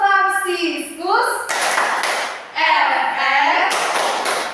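A classroom group performs the Tepuk Fransiskus clapping chant, loud and close: sharp rhythmic claps mixed with children's voices chanting together in bursts.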